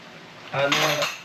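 Metal tent pegs from a Mount Peak tent clink and rattle together as they are mixed, one brief close jangling burst lasting about half a second with no talk.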